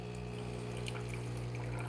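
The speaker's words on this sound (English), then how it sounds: "Put some hot water." Hot water pours from a Breville espresso machine for an Americano, a faint steady trickle over a constant low machine hum, with no talk.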